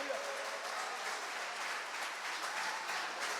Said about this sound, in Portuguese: Se você crê, aplauda o nome do Senhor